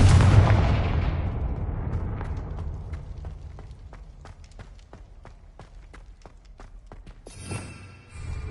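A heavy explosion from the Confringo spell in the Hogwarts Legacy video game, a loud booming blast that fades into a rhythmic series of light tapping impacts, then a rising whoosh.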